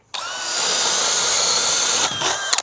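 A power drill with a FlexVolt battery whines loudly and steadily as it bores through a wooden bottom plate, then slows and stutters briefly before cutting out.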